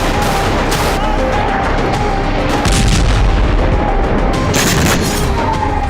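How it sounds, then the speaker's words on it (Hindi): Bombs hit rebel positions in Syria, loud booming blasts and crackling gunfire-like bursts rolling through a dense, noisy wartime scene, with a voice faintly under the din. "विद्रोहियों के ठिकानों को बम से नष्ट किया गया है।"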